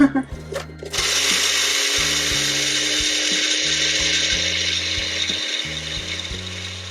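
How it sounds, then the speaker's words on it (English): A blender whirs loudly and steadily as it purees flourless pancake batter, kicking in about a second after a brief pause and running without a break under low background music. "I'm gonna make sure everything is blended nicely."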